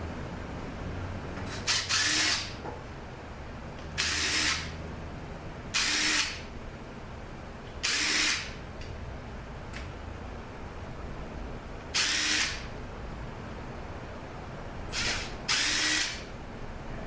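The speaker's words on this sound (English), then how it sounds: "Let's get these pump bolts out." Power tool spinning out transmission pump bolts on a ZF6HP28 gearbox, several separate bursts of whirring about two seconds apart, near and fairly loud over a quiet background.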